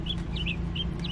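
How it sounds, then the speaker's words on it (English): A bird calls with a few quick, high chirps in short bursts over a steady low background hum. "not the bird trying to talk too"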